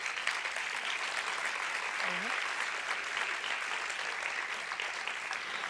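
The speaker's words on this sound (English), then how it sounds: "So let's give him an applause." Sustained audience applause fills a closing ceremony of a data festival, a dense steady wash of many hands clapping at even loudness throughout, with no talking over it.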